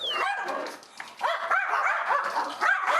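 Three dogs bark and yip excitedly in rapid, overlapping bursts, close by and loud, with some higher whiny yelps mixed in.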